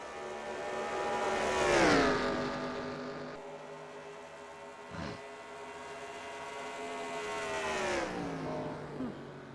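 Race car engines in NASCAR Racing 2003, a 1980s-style Atlanta race, as a car drives down pit road: steady multi-harmonic engine drone with pitch sweeps, rising and falling around two seconds and again near eight, with a brief passing whoosh midway.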